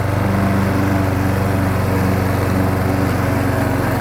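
A Briggs & Stratton–powered lawn mower runs steadily while mulching grass, its engine droning loud and close with a constant low hum throughout.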